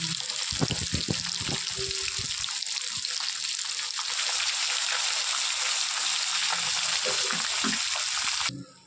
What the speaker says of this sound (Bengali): তেল গরম হচ্ছে, মাছগুলো ভালো করে ভেজে নেব।